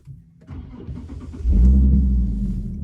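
A Nissan 370Z sports car engine cranks and fires up, settling into a loud, deep rumbling idle with a low roar that stays steady afterward.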